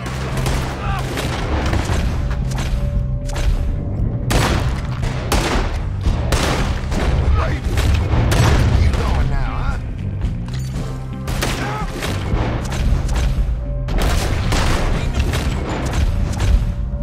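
Dense gunfire in a shootout in Red Dead Redemption 2, loud rapid shots and booms in irregular bursts throughout, with game noise layered underneath.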